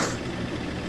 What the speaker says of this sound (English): Oh, why is the freaking car so loud?